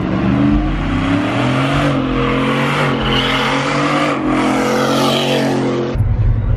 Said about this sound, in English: There's a lot of burnouts and donuts going on illegally and they're ruining the meat.